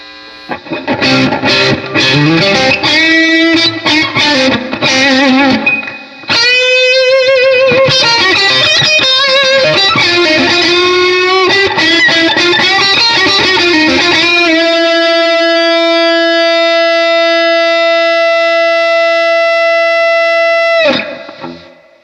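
Heavily distorted electric guitar through a Skreddy Major Overdrive pedal at high gain plays choppy riffs and chords, then holds one long, sustained, buzzing note with 60-cycle hum that rings for several seconds before cutting off.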